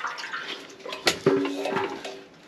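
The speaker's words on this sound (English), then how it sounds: "I can hear it dripping somewhere else as well." POR 15 tank sealer dripping out of a fuel tank, a few faint wet drips and patters close by with light handling noise, no speech.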